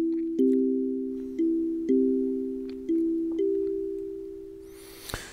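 Soft plucked synth notes in a kalimba-like tone, programmed in Sonic Pi, sound one after another in a slow repeating pattern, each ringing and fading, then a brief noisy burst.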